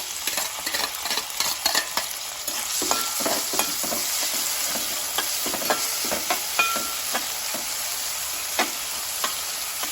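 Onions and green chillies fry in oil for mutton fry, a dense steady sizzle and hiss with quick stirring scrapes near the start, close and continuous.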